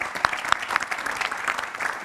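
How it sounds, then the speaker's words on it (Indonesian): Brief burst of studio audience applause on an Indonesian political talk show, dense clapping from many hands at moderate volume, fading toward the end. "tepuk tangan untuk Pak Habib."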